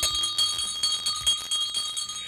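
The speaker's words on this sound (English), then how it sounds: "I'm ringing my bell for you" A small bell rings repeatedly in quick, bright strikes that come in rapid rhythmic bursts, close and clear, with no talking.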